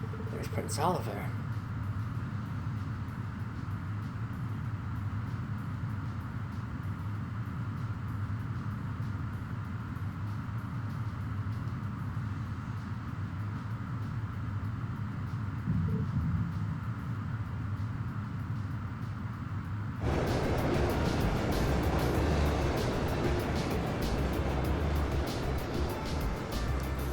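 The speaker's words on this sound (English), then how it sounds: "The train will be passing through at a high speed, so travelers on the platform are advised to exercise caution." A special express train races through a station at high speed in the video game Trails of Cold Steel, a steady mechanical rumble that swells into a louder, denser roar near the end, with a voice speaking over it.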